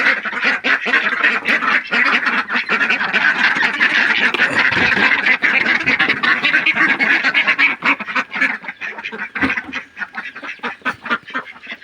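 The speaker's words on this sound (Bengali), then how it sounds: "হাঁসগুলো আদার খাওয়ার জন্য আসছে" A flock of village ducks quacks loudly and continuously as they come to be fed ginger, a dense close chorus of overlapping calls with no talking over it.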